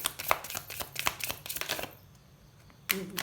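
Tarot cards are shuffled and drawn from a pack in rapid riffling bursts of papery flicks and slaps, close up, followed by a pause and one last soft card sound.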